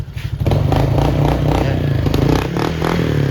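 Motorcycle engine running through a 4ROAD exhaust pipe fitted with a silencer, loud and close, with throaty pulsing revs, a rattling clatter and brief rises in pitch, with no talking.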